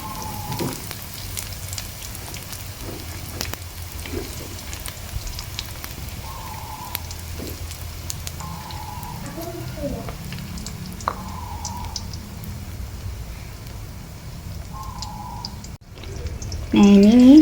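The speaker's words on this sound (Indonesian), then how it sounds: "Kita goreng." Coated 'snow' sausages fry in hot oil on a stove with the flame switched off, making a steady, close crackling sizzle. A voice speaks briefly now and then over it.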